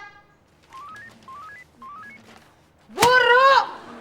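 A mobile phone in an office emits three short rising beep sequences, followed by a louder, brighter warbling electronic tone that lasts about half a second.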